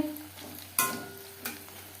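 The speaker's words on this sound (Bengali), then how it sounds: "গোল্ডেন ব্রাউন করে ভেজে নিয়েছি" Steady sizzling of paneer pakoras frying in hot oil, with a couple of sharp clinks as pieces are stirred or turned.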